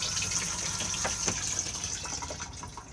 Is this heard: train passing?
no